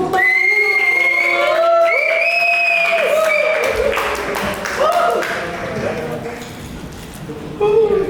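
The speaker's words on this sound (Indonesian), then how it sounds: "Kasih tepuk tangan." A seminar audience greets a speaker with loud, sustained clapping and several long rising whistles, the applause thinning toward the end with a final burst of claps.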